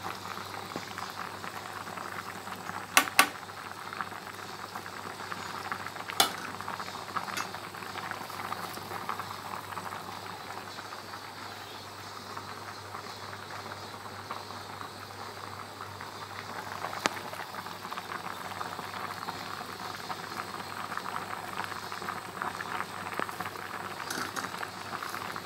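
A pot of Kuwaiti-style white rice boils steadily, giving a soft continuous bubbling and simmering hiss with occasional faint clicks, close and fairly quiet, with no talk.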